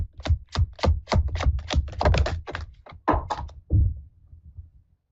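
Cards being shuffled by hand: a rapid series of crisp, papery riffles and taps, close and distinct, trailing off into quiet.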